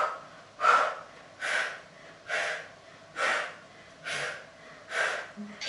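Heavy breathing during a HIIT yoga exercise: six strong, evenly spaced breaths close to the mic, each a rushing push of air, with no talking in between.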